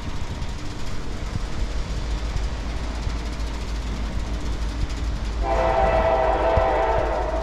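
A CSX freight train on the Lehigh line, its rumble and rail noise building for several seconds before a loud, sustained horn blast cuts in near the end and holds to the close.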